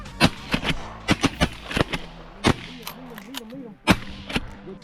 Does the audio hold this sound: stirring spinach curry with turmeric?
no